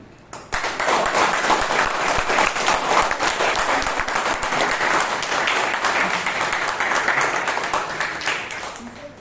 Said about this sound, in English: Can we have a huge round of applause just for the energy?